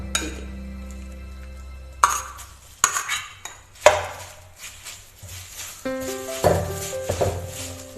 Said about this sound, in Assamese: ভালদৰে মিলাই দিব